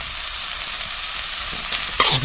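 Snail curry with onion, tomato and masala sizzles steadily in a hot pan while it is stirred, with a brief scraping stir near the end; close and continuous, no talking.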